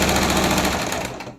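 A sewing machine stitches a blouse armhole in a fast, close, rattling burst that slows and stops after about a second.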